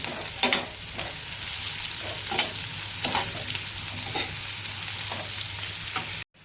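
Sprouted moth bean (matki) bhaji being stir-fried in a pan, with a steady close sizzle and repeated scraping strokes of a spoon through the beans at an irregular rhythm, with no voices.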